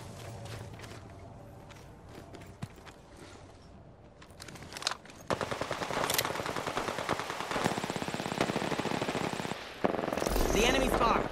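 Automatic weapon fire in Apex Legends, sporadic single shots early, then sustained rapid bursts building loud and close, with footsteps and a spoken voice mixed into the game audio.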